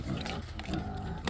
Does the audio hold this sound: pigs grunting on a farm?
yes